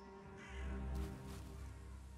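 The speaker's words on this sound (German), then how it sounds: "Der Vogel, der ist gerne hier" Bird cawing in the Valheim game, a single harsh caw of about a second, fairly faint over a steady ambient hum.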